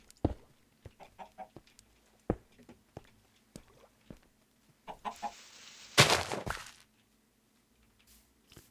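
Minecraft chickens cluck in a string of short, clipped calls that come and go, followed by a louder burst of game noise near the end, with no talking.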